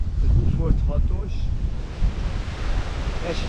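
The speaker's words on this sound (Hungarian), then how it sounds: "de eléggé nagyok a hullámok, tehát ilyen 4 méteres hullámok is előfordultak." Strong Force 6 Atlantic wind of about 26 knots and large ocean waves up to four metres around a sailboat at dawn, a steady loud roar of wind buffeting the microphone with rushing water, with a voice briefly audible.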